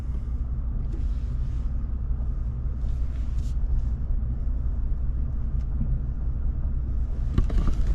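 A RAM 2500 Power Wagon rocks back and forth, giving a steady low rumbling drone with little change throughout and a slight bump near the end.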